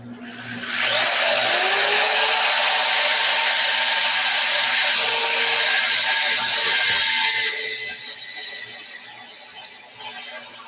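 Wood-turned ornament spinning on a lathe while being sanded with 120 grit, a loud steady whirring hiss that holds for several seconds, then eases off near the end.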